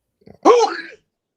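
A single short sneeze, close and loud, preceded by a faint quick intake of breath.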